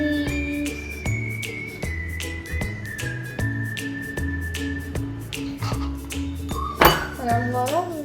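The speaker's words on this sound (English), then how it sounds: "And I'm gonna whisk and whisk and whisk and whisk." Brownie batter with powdered sugar gets whisked in a bowl, producing rapid, regular metallic clinks against the bowl, close and crisp, repeating through the clip over background music with a louder clatter near the end.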